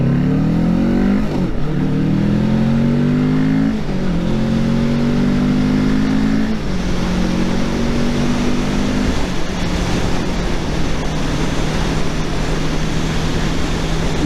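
A motorcycle accelerates hard through several gears, each rising engine whine cut by a quick dip at the shift before climbing again, loud and close with heavy wind rush over the microphone.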